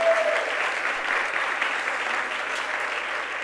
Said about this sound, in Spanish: Un aplauso para las mamás, por favor.